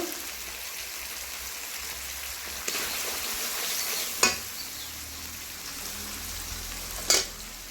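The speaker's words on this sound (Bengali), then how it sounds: "এবার ভালো করে নাড়াচাড়া করে মশলাটাকে আমি ভালো করে ভেজে নেব" Ground coriander, salt, turmeric and cumin fry and get stirred in a pan for a mushroom dish, a soft steady sizzle with two sharp scraping clinks of the spoon against the pan.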